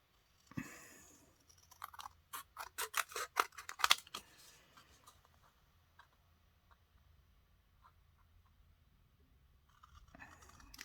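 Scissors cut out paper pockets and note cards in a quick run of faint, crisp snips up close, followed by near silence and a soft rustle at the end.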